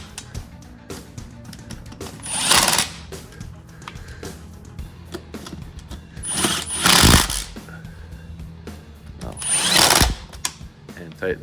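A power tool tightening wheel fasteners on a 1992 Polaris 250 Big Boss 6x6 ATV, three short loud buzzing bursts spaced a few seconds apart, close up, with quieter handling noise and some voice between them.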